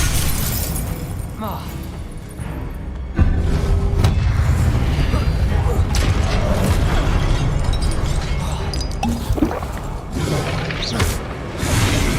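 In Hogwarts Legacy, a Confringo fire-blast spell bursts with a heavy boom that gives way to a sustained roar of crackling and shattering debris. Loud, chaotic combat effects continue throughout.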